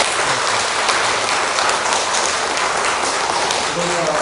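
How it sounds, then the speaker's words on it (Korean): Church congregation applauding two serving elders during a Sunday service in Busan, a steady dense wash of clapping that holds evenly for about four seconds with murmured voices underneath. "두 분들 수고하신다고 우리 격려의 박수 한번 드리겠습니다"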